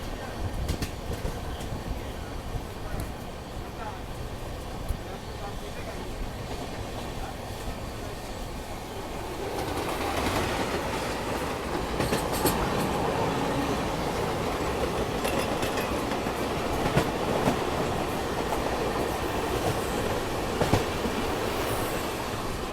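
Passenger train running on rails along a scenic route in India, a steady rumbling roll that grows louder and busier midway, with rhythmic clicking of wheels over joints and occasional sharp squeals.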